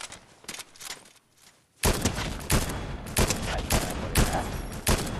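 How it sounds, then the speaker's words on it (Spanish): Video game gunfire: after a quieter opening, loud rapid bursts of shots break out and repeat in clustered volleys through the rest of the clip. "¿Están disparando?"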